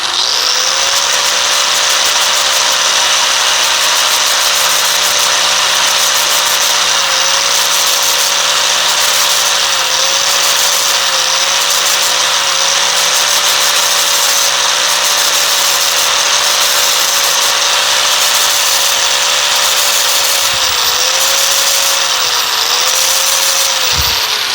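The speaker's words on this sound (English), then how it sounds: "grind it without hitting a chuck" Grinder working a welded custom Corvair oil plug held in a lathe chuck, a loud continuous abrasive hiss and whine close up, its tone wavering slightly as pressure shifts, with no pauses.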